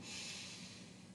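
A steady inhale through the nose during a stress-relief breathing exercise, a soft continuous airy rush that stays even from start to finish with no talk.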